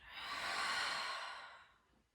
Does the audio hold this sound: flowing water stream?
no